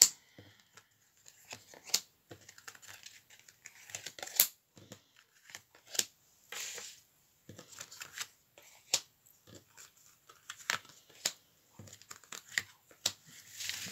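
Tarot cards are handled and laid out one by one, giving soft scattered slaps, flicks and papery rustles with quiet gaps between them, close and fairly faint.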